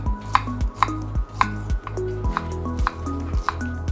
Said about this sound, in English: again, chopping into squares that are similar in size.